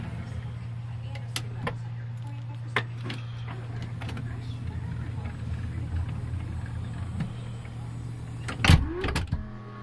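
On a Chrysler Town and Country minivan, the sliding door cinch motor hums in a steady low whir, fairly quiet and continuous, with scattered clicks and a louder clunk near the end as the door latches.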